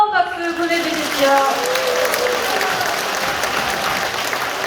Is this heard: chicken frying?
no